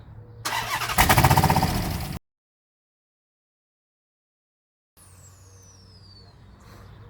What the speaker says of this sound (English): So is that what that was the exhaust making all that noise?